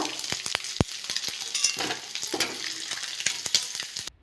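Shrimp frying in hot oil in a kadai, a steady close sizzle and crackle broken by sharp spatula scrapes and clinks against the pan.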